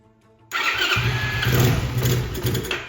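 A Honda CT70 clone motorbike, a 2024 Icebear Champion, cranks and fires up, settling into a loud, uneven running idle with a low, steady engine drone close by.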